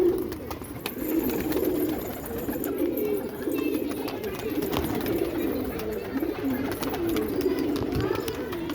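Pigeons kept for a racing tournament coo steadily and close by in a continuous low murmur, with a busy background of other noise throughout.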